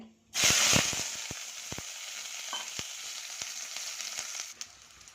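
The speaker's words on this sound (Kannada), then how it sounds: "ಎಣ್ಣೆ ಹಾಕ್ಕೊತಾಯಿನಿ ಒಂದು ಸ್ಪೂನು ನೋಡಿ ಬದನೇಕಾಯಿ ಹಾಕ್ತಾಯಿದ್ದೀನಿ" Eggplant pieces drop into hot oil in a pan for a chickpea masala sambar, setting off a sudden loud sizzle that settles into a steady close hiss, with a few spoon clicks.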